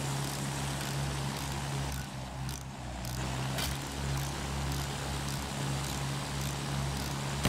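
A WWI propeller plane drones steadily in Battlefield 1, a continuous engine hum with a brief dip and a sharp crack partway through.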